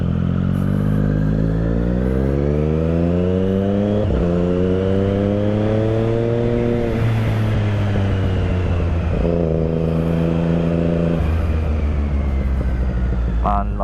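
A Triumph Street Triple 675 motorcycle carries its rider on a commute along wet, foggy winter roads in Delhi, its engine loud and close, droning steadily and rising in pitch as it accelerates through several gear changes.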